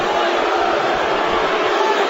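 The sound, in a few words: crowd booing at a UFC fight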